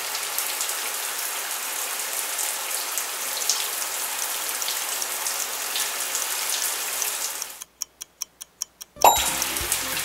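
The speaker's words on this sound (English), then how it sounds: "It's a shower." A household shower runs with a steady hiss of falling water, then cuts off into a few brief ticking clicks.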